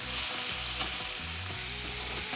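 Whole garlic, thyme and butter in a frying pan beside a herb-crusted rack of lamb, sizzling loudly and continuously up close, with no voices.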